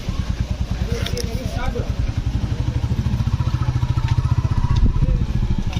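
A motorcycle rides along a road, its engine putting out a steady, pulsing mid-range drone close to the mic, with a rhythmic throb that builds slightly toward the end; a voice is heard briefly early on.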